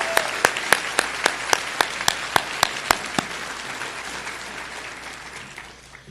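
Audience applause at a physician assistant studies white coat ceremony, a crowd clapping loudly in a bright burst of sharp claps that gradually thins and fades over several seconds.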